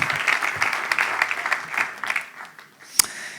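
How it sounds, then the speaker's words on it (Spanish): Church congregation clapping in praise during a worship service, a lively crowd of hands that thins toward the end with one sharp louder clap near the close. "Le aplaudimos a nuestro Dios bueno."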